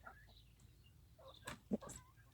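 A hen clucks on a free-range chicken farm, a few short faint clucks and chirps spaced out against quiet background, with soft bird calls around.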